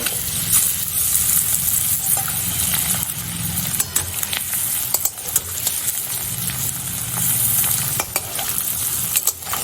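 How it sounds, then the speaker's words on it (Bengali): Whole eggs rubbed with turmeric and salt fry in hot oil, a steady loud sizzle and crackle running throughout with occasional sharp pops and light utensil clinks, no voices. "আমি ডিমগুলো একটু চপিট করে ভেজে নেব"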